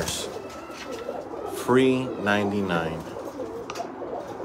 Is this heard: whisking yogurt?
no